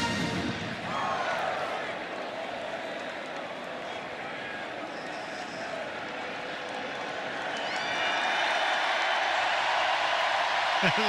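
A football stadium crowd roars during a Florida State Seminoles vs. Florida Gators game, a broad wash of cheering that swells louder toward the end while a commentator talks over it.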